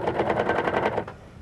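A Husqvarna Viking Huskylock serger stitches piping with a steady rapid mechanical chatter of needle strokes, close and loud, running for about a second before easing off.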